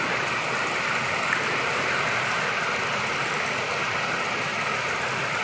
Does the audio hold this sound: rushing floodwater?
yes